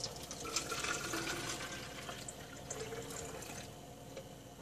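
Liquid slime activator made with borax poured into a container, a soft steady splashing, trickling stream that runs continuously for several seconds at low volume.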